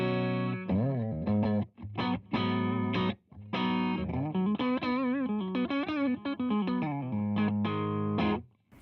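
Distorted electric guitar plays a melodic phrase with sustained chords and bends, drenched in a splashy, washy spring reverb from a Tone City pedal, close and loud throughout.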